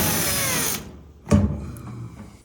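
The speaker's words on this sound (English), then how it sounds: "Now I need to remove 4 screws to get this panel to drop down a little bit." A power drill backs out a panel screw on a 3-phase 480V electric heater, one loud burst of drilling up close following a duller mechanical whir that fades out.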